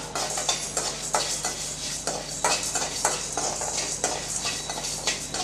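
Mustard seeds and dried red chilies dry-roast in a pan for vatha kuzhambu, heard as a soft sizzle under a quick run of rhythmic scraping and clinking stirs of a metal spoon.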